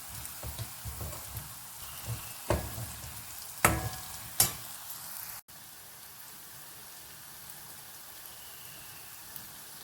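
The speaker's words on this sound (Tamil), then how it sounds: "மஞ்சள் தூளும் மிளகாய் தூளும் போட்டுட்டு ஜஸ்ட் ஒரு 1 or 2 minutes நல்லா வதக்கி விட்டுடலாம்." Onions sautéing in oil with turmeric and chili powder, making a soft, steady sizzle broken by several sharp utensil clicks early on, then a quieter, even crackle after an abrupt cut.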